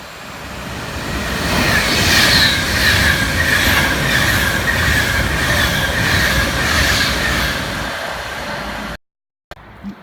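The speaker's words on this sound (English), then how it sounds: "The next train to approach and pass is the Virgin Pendolino." A Virgin Pendolino electric train roars past close by at Longport, loud and rumbling with a rhythmic clatter of wheels, fading slightly before stopping abruptly.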